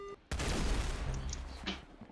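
A single loud shotgun blast in an arena-style video game, hitting hard at once with a heavy low boom and a ringing tail that fades over about two seconds, with no talk over it.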